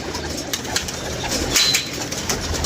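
Pigeons cooing outdoors amid occasional bursts of flapping wings, a soft continuous bird chorus at moderate distance.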